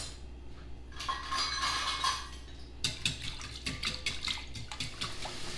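Pie filling of milk, salt and pepper whisked in a bowl, a quick run of close, rhythmic metallic clinks and taps against the bowl after a brief watery swish, with no talk.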